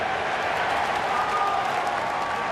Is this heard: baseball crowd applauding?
yes